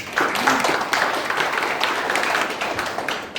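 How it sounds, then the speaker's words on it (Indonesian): A church congregation applauds for Jesus during a Sunday service, a dense, continuous patter of many hands clapping at moderate loudness, sustained evenly across the whole stretch with no voice standing out. "Tepuk tangan buat Tuhan Yesus."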